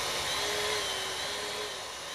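A hydraulic pump for a torque wrench runs and cycles with a steady high-pitched whine and a broad mechanical hiss. The sound is continuous and fairly close, with no talk.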